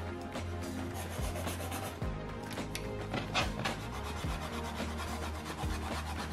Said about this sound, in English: I was erasing with my little pearl eraser.